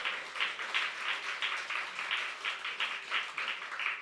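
A church congregation claps along in a steady, rhythmic beat, many hands sounding together at a moderate distance with no talk over it.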